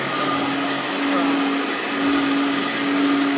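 A mixer grinder whirs steadily and loudly without a break, grinding tomato curry spices with curry leaves, fennel, cinnamon, cloves and shallots for a tomato kuzhambu.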